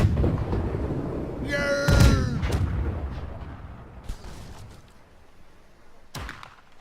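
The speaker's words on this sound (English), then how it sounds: "Keep up the fire. Keep up the fire. Barrage is steady. All on target so far." Ship cannons firing a barrage in the naval combat game Blackwake, heavy booming blasts and rumbling thuds, one loud burst around the middle with a later distant boom, under a steady low rumble.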